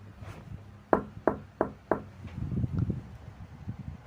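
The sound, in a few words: knocking on a bedroom door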